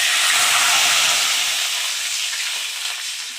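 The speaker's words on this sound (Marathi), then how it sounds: "जिरे आणि मोहरी टाकून घेतल्यानंतर ही चांगली तडतडून घ्यायची आहे व गॅस बारीक करून यामध्ये आपण 1 तांब्या पाणी टाकून घेणार आहे" Water is poured into a hot tempering of cumin seeds and mustard seeds and sends up a loud, close burst of steam and sizzling hiss that slowly fades.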